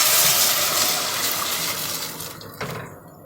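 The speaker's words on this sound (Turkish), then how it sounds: "sıcak suyunu ekliyorum" Steady rush of hot water pouring into a pot of meatball stew with mint, loud and continuous, fading and tapering off near the end.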